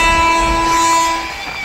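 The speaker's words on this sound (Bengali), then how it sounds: "নিচে থেকে ট্রেন যাচ্ছে" A train passes on tracks below a road as a vehicle waits in traffic, heard as a loud, continuous rumble with steady tonal whine throughout.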